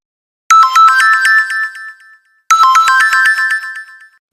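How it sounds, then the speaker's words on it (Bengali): A phone ringtone in an Islamic Bangla cartoon plays twice, a bright electronic melody of about a second and a half each time, separated by a short silence, loud and close. "এই সময় আবার কে ফোন দিল"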